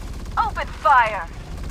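Rapid automatic gunfire from the Farlight 84 shooter game rattles steadily at a fast, even rate, partly under a brief voice line.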